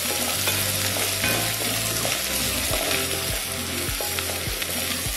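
Onions and chicken pulao ingredients sizzle and fry in a pan while being stirred, a steady bright crackle with repeated scraping strokes of a spoon against the metal, close and clear with no talking.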